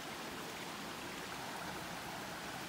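A river rushes past rocks beside the Appalachian Trail near the Kennebec, a steady, dense roar of flowing water holding evenly throughout with no other sounds.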